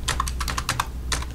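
Quick, close typing on a computer keyboard, a brisk burst of crisp key clicks with a short pause before a final few taps, over a steady low hum.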